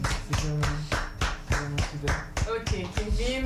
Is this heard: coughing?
no